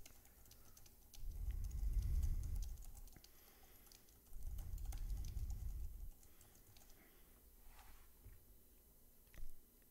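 Faint, quick clicks of typing on a computer keyboard come in scattered bursts, with two low rumbling swells of background noise passing beneath.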